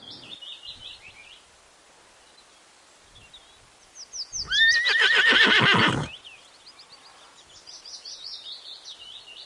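A horse gives a single loud, close whinny that rises and then shudders down for about a second and a half. Birds chirp softly before and after.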